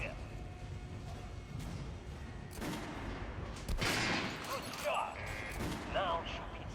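Guns fired at a shooting range in the video game Metro Last Light, a few sharp shots with echoing booms over quiet background and game voices.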